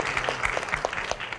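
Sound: students applauding at lecture

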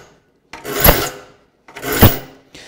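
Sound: filing the teeth of a rip hand saw

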